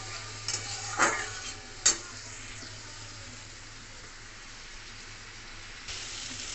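Chopped tomatoes frying in a pan for pav bhaji give a steady, quiet sizzle, with a couple of sharp stirring clinks near the start and a low hum underneath.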